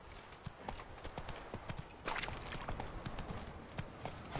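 Hooves of Roach, the horse in The Witcher 3, clip-clopping at a fast gallop, a steady rapid rhythm of mid-distance thuds over a soft background.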